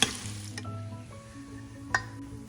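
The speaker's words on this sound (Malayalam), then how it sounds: "ഒരു 2 ടേബിൾ സ്പൂൺ നെയ്യിൽ 1/4 കപ്പ് വളരെ ചെറുതായിട്ട് അരിഞ്ഞ തേങ്ങ ഒന്ന് വറുത്തെടുക്കാം." Finely chopped coconut frying in ghee sizzles steadily in a pan, with a couple of sharp utensil clinks against the vessel over the soft, continuous crackle.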